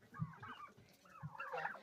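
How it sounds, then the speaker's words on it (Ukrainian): Farmyard turkeys give short warbling calls and soft clucks in two bursts, close by and fairly quiet, with no voices. "Отакі мої індики."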